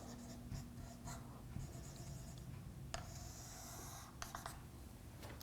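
Pen or pencil drawing a square-root function graph by hand on paper for a chain rule calculus lesson: quiet close scratching strokes in short bursts with pauses, faint and without talk.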